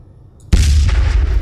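A big main cannon fires in the Space Engineers video game: one abrupt, loud, close boom after a quiet moment, followed by a deep rumbling roar that lingers to the end.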